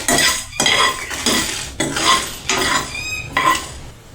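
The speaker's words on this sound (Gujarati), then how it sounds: "આપણે ચમચા વડે હલાવી લઈશું" A spoon scrapes and clinks against a pan while whole coriander seeds, dried chillies and fenugreek roast, with five or six rhythmic stirring strokes over a light sizzle.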